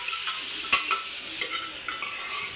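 Quiet sizzling from a pan of tempering spices for mutton tripe masala, with occasional light stirring scrapes and clinks, fairly close, no voices.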